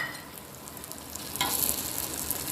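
Cumin, fennel seeds, potatoes and small shallots fry in a pan, a steady broadband sizzle that grows louder about halfway through as ingredients hit the hot oil, with no talking.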